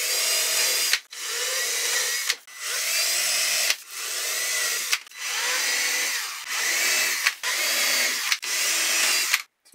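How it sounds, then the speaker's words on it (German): A power drill bores holes through a template while a box-mounted air conditioner is being installed, heard as about seven loud, close whining bursts separated by short pauses. "Alle Löcher sind angebohrt."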